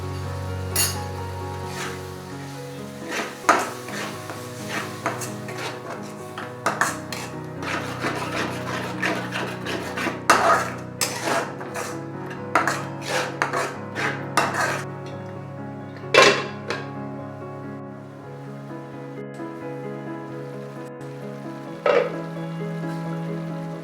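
A spoon stirs yogurt and gram flour into fried masala in a pan, producing repeated metallic clinks and scrapes against the pan over a soft, continuous sizzle.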